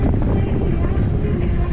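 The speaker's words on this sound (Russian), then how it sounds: "Такой ветер." Strong wind buffets the microphone during a ride along the Crimean coast near Meganom and Sudak, a steady loud roar and rumble that runs the whole time with no break.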